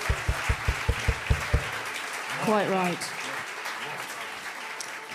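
Applause from a concert audience at a show in New York, a sustained wash of clapping under a speaker's voice and laughter, after a few evenly spaced thumps at the start.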